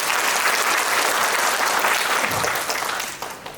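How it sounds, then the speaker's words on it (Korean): Audience applause fills a policy forum on care-worker conditions in Gyeonggi Province, steady dense clapping from a large crowd that holds strong for most of its length, then thins and fades near the end. "큰 박수 부탁드리겠습니다."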